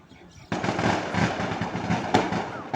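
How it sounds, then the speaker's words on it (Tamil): A rapid string of firecrackers bursts outside, from a street funeral procession, starting abruptly and crackling continuously with one sharper bang near the end, loud and somewhat distant. "என்ன வெடி சத்தம் கேட்குது?"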